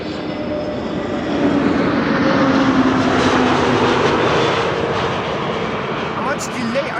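An EasyJet airliner lands at Amsterdam Schiphol, its engines a steady broadband roar that swells slightly mid-pass and holds loud and near throughout, with a voice talking faintly underneath.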